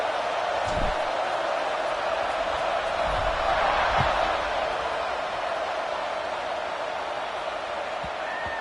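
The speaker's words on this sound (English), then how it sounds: "this crowd is buzzing after that last score" A football stadium crowd buzzes after a score, a dense, steady roar of distant voices with a few thuds, sustained throughout.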